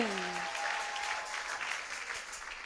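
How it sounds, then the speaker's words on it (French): A church congregation at a thanksgiving testimony celebration claps loudly and continuously, a dense, steady wash of applause with a short sung or voiced tone fading at the very start. "Acclame très fort pour le Dieu qui donne les emplois."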